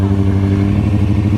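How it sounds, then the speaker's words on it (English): A loud, close motorcycle engine revs steadily and roughly, its low engine tone continuous throughout. "I'll do one more wheelie for you guys."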